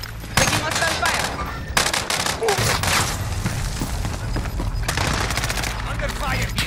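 Rapid automatic gunfire crackles in dense bursts during a Call of Duty Warzone battle, loud and close with short gaps between volleys and a low rumble of explosions beneath.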